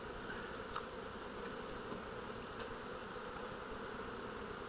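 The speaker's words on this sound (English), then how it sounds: "See how the bees are coming out." Honeybees emerging from a package box set inside a hive make a constant, even buzzing hum, close and unbroken throughout, with no voices.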